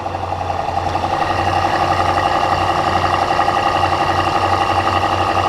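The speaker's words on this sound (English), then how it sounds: "that dual exhaust system, which we can go ahead and start up" A 2023 BMW M850i xDrive coupe's engine idles steadily after a remote start, its dual exhaust giving a loud, constant drone close by with no talking.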